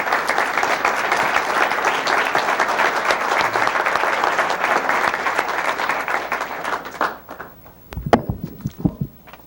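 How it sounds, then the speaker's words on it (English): An audience applauds at a lecture in a Chicago hotel, a dense sustained clapping that fades out near the end and gives way to a few sharp knocks and thumps. "Would you give her a great round of applause as she comes to us?"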